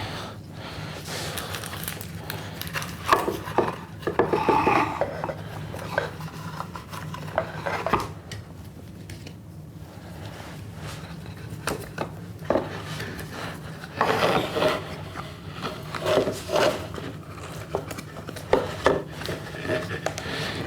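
Rubber bands stretched and wrapped around scrap wood pieces to clamp them for an iPad shelf, heard as close rubbing, snapping and creaking in irregular bursts with no talk.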